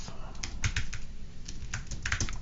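Quick bursts of typing on a computer keyboard, close-miked clicky keystrokes in an irregular rhythm, with a faint low background hum.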